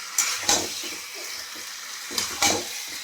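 Eggs stirred in a frying pan, with a few bursts of scraping and sizzle against quieter frying in between, close by and brief.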